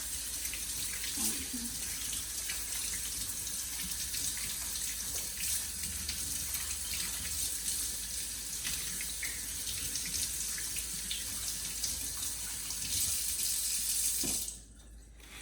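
Warm tap water runs steadily into a sink for several seconds, a continuous splashing hiss that stops near the end.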